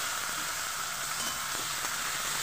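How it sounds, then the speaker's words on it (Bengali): Soaked mung dal frying with potato in a pan, giving a steady, even sizzling hiss that runs unbroken, with no voices over it. "আলুটার সঙ্গে একটু ভালোভাবে ভেজে নেব"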